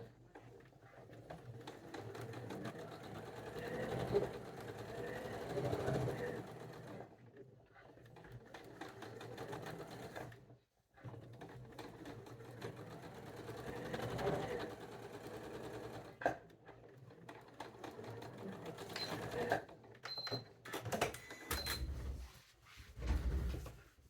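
A sewing machine stitching quilt rows together with a quarter-inch seam, running in steady whirring bursts separated by short stops, close and moderately quiet, with handling clicks and fabric rustle near the end.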